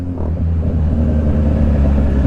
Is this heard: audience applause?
no